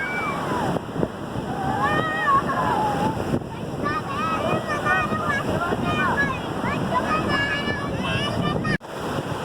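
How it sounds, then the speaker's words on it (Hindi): Sea waves surge and wash ashore at Hawks Bay beach in Karachi, a loud, continuous roar buffeted by wind, with voices and chatter faintly layered over it throughout. "ये देखिए मेरे पीछे लहर आई पानी की।"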